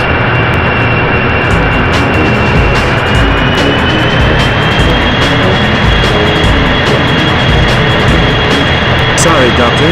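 Airplane engine roar in the PlayStation game 007 Racing, a loud, continuous jet-like rumble with a high whine, heard up close throughout with scattered clicks and snaps over it.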